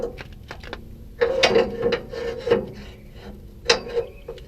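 Metal pin pushed through to secure the ramp of a tow dolly behind an RV, giving close scraping, rubbing and clanking metal sounds with a few sharper knocks.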